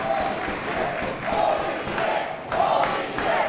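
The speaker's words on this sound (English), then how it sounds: "Listen to the crowd." A wrestling arena crowd at the Houston Premier Arena roars and cheers after a superplex in a Texas pro championship match, with loud sustained yelling swelling in waves and sharp shouts, near and dense.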